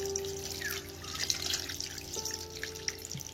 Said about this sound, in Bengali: নিয়ে আবার জল দিয়ে ধুয়ে ফেলবো